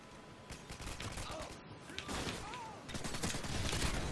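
Gunfire from the video game Modern Warfare 2, with rapid bursts of shots and repeated cracks coming in clusters, growing denser and louder toward the end, with brief speech mixed in.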